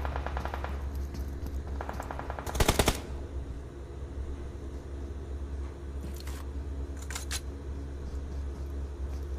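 Rapid automatic gunfire from a battle royale video game tournament match, with a loud close burst of shots followed by fainter distant volleys, and no talk over it.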